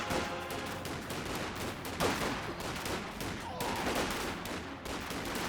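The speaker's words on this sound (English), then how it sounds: "Our MG34 hits the rifleman" MG34 machine gun fire in the Company of Heroes 2 strategy game: dense overlapping bursts of automatic gunfire and battle noise, loud and continuous throughout, with no clear gaps.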